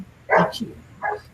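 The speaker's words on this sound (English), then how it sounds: "Okay, sorry about my dog." A dog nearby gives two short barks, the first louder than the second, in a quiet room, with a brief spoken phrase between them.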